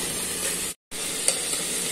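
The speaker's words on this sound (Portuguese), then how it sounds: "Aí eu vou colocar um pouquinho de óleo. Só um pouquinho mesmo pra poder refogar." Meat sautéing in a little oil, giving a steady close sizzle that cuts out briefly midway and then resumes, with one small clink.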